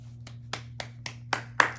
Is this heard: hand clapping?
yes